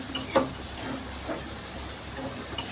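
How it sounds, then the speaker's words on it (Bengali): Spice paste fries in oil in a pan with a soft continuous sizzle, punctuated by a few sharp scraping clicks of stirring. "এই মশলাটাকে এখন ভালোভাবে কষিয়ে নেব।"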